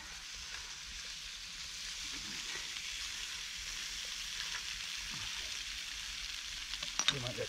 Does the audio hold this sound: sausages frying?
yes